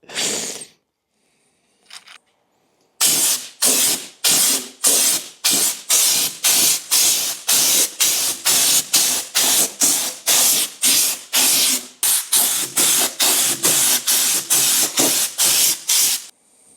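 A Schultz gun sprays coating on a car in repeated bursts of loud pneumatic hissing, about twenty short blasts in a steady on-off rhythm, close by, after a brief opening spray and a pause.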